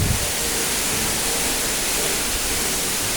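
A waterfall splashes over wet basalt rocks, a steady dense roar of falling water filling the whole moment without a break, loud and close.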